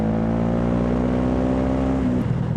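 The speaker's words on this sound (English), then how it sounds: "listen to that engine." Motorcycle engine running steadily while riding at about 32 mph in winter, a close, continuous drone with a steady pitch that drops and fades near the end.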